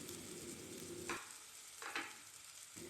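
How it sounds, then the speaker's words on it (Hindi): Chicken shami kababs shallow-fry in four tablespoons of cooking oil in a frying pan, giving a steady close crackling sizzle broken by a couple of short bursts as they are moved around. "अब एक फ्राइंग पैन लेंगे उसमें four table spoon cooking oil डाला है एंड शामी कबाब को फ्राई करेंगे"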